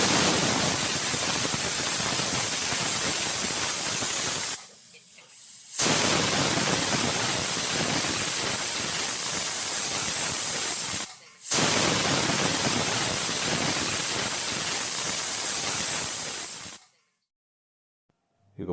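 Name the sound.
pressure cooker hissing steam while cooking dal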